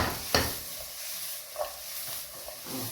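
Vegetables for fried rice are moved around a hot pan with a wooden spoon, giving a steady close sizzle with a few soft knocks and scrapes.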